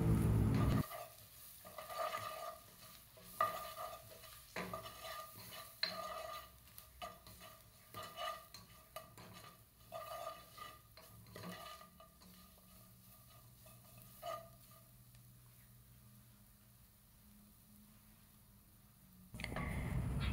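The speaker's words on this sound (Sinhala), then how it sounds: "මේ සේරම ටික හොඳට කලවම් කරනවා" Turmeric and chili powder are stirred in a frying pan for tempered mushrooms, with repeated scraping spoon strokes over a faint, steady sizzle and no talking, close and fairly quiet.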